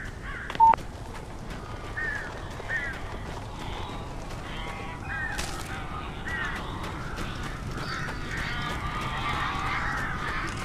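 Crows cawing in the Alan Wake game, a series of harsh, repeated calls at moderate distance over a steady background rumble, with one sharp short tone near the start.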